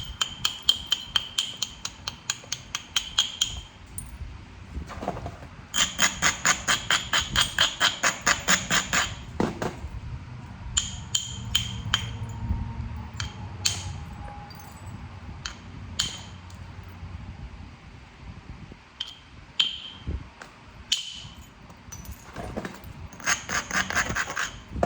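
Flintknapping a rock into an arrowhead: rapid trains of sharp, clicking taps and scrapes of the tool against stone, coming in bursts with short pauses, close and fairly loud, with occasional rubbing sounds between strikes.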